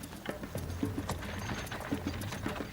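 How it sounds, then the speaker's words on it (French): Two horses pull a Bronze Age–style war chariot carrying a driver and an armed warrior at a gallop. Their hooves clip-clop in a steady, rolling rhythm with a rattle of the chariot mixed in. "un char tiré par des chevaux au galop"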